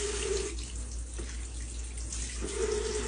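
Water runs steadily from a tap in a close, continuous rush, briefly changing tone as a Nurture Right 360 incubator part is held under the stream for rinsing.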